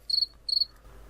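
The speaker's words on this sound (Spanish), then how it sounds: "El típico. Un grillo." A cricket chirps in two quick trilled bursts, high and clear against a quiet background, each lasting a fraction of a second with a short gap between them.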